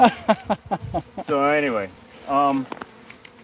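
Bees buzz loudly close by during a bee removal in which glue is being sprayed, two drawn-out droning bursts with wavering pitch following a man's brief speech.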